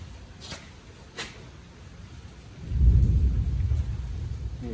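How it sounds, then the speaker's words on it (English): Distant thunder rolls in as a low, growling rumble from outside during a storm, with faint rain hiss in the background and no talking. "that thunder out there sounds amazing"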